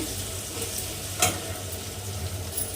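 Tomato masala for a cauliflower and prawn curry sizzles and bubbles steadily in a pan, with a brief stir or scrape of the spoon partway through; no one speaks.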